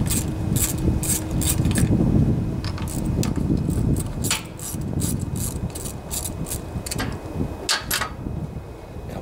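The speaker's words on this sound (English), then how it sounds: "If you have a long 5/16 long socket, that's the best way to take these off" A 5/16 socket wrench ratchets carburetor bolts off a Briggs and Stratton Intek OHV riding mower engine, making repeated quick clicking and rasping strokes close by.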